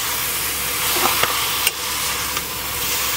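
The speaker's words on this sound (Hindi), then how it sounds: "प्याज तो हमारा भून गया है, तो थोड़ा सा चिकन भी डाल दिए थे, अभी और सारा डाल दे रहे हैं इसमें" Onions and chicken fry in a pan for chicken curry, a constant broadband sizzle with a few sharp stirring clicks and scrapes, close and steady, no talking.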